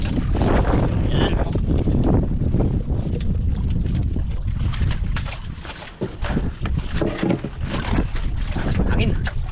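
Strong wind buffets the microphone with roaring gusts around a river fishing boat in rough waves, loud and continuous, with people talking over it.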